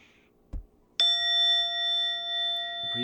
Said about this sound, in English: Simply listen to the chime.